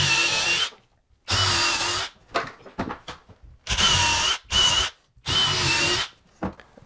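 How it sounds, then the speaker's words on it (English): A power drill bores pilot holes into a wall for a barn door track, running in about five loud, steady bursts separated by short silences and light handling clatter, close up. "So we can drill a pilot hole here next."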